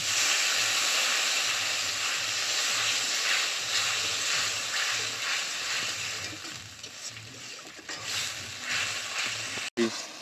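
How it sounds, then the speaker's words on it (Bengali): Spice paste with turmeric powder and spice-rinsing water being fried in a pan for a Bengali snake gourd and soya dish, giving a steady loud hiss and sizzle throughout, with faint rhythmic stirring scrapes and a sharp knock near the end. "মশলা ধোয়া জলটা দিয়ে ভালো করে মশলাটা কষে নেব।"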